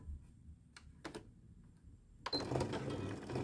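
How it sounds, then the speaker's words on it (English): A sewing machine lock stitching a lap zipper, a few brief clicks and short stitching bursts, then a sustained run of rapid mechanical stitching, close and fairly quiet. "Oh, this machine's doing like a lock stitching effectively."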